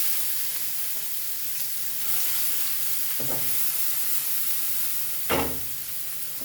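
Onion frying in oil in a pan for a Goan egg burji, a continuous sizzling hiss with two sharper bursts of spitting or stirring, nearby and moderately loud.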